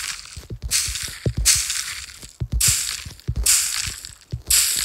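Repeated crunchy, crushing bursts alternate with short thuds, a rhythmic pattern of noisy crackles every second or so, from bone meal being used in a video game.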